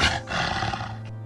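A loud, close roar from an unknown creature that sounds like a bear mixed with a coyote, one sustained growling bellow lasting about a second with a rough, throaty tone.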